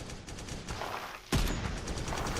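Rapid gunfire from a gun in the video game Deadshot, a dense stream of shots with a sharp louder blast midway followed by continued firing, close and loud with no talking.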